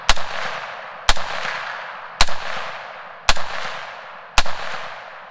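A PSA AR-10 rifle fitted with a cheap muzzle brake firing single rounds: five very loud, sharp shots at an even pace of about one per second, each followed by a brief ringing decay.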